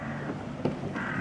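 Ravens gather as scavengers at a predator feeding site and give a couple of harsh caws over steady outdoor background noise.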